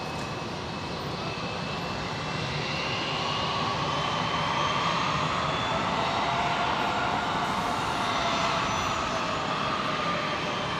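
A steady, loud jet engine roar fills the air at Brisbane International Airport, a broad continuous rumble and whine from an aircraft nearby on the ground, slowly swelling with no voices.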